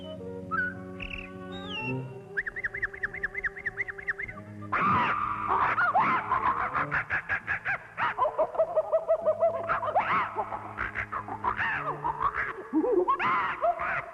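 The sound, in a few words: voice actress imitating jungle birds, parrots and monkeys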